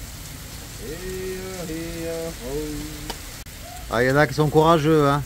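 A rain shower falls beside Lake Geneva, a steady, even hiss of drops under someone speaking French, with his voice growing louder near the end.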